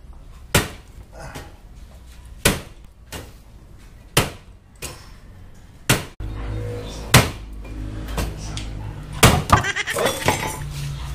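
Sharp metallic hammer blows on a motorcycle swing arm extension land one at a time at a steady pace, about eight strikes, with clanking and rattling between them.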